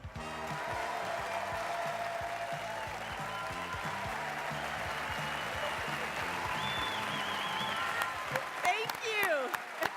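A large live audience at a teacher-appreciation show applauds and cheers steadily in a dense, continuous roar, with a voice rising over the crowd near the end.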